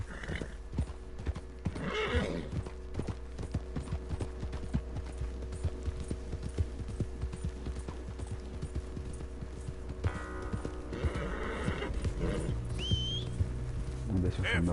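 Horse hooves clip-clop steadily under game ambience in Red Dead Redemption 2, with a couple of neighs and whinnies breaking through, plus faint whistling; the horse sounds fairly close and moderately loud.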